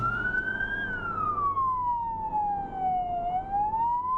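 A wailing ambulance siren slowly rises and falls in pitch, fairly close, over a low traffic rumble, in Turkey.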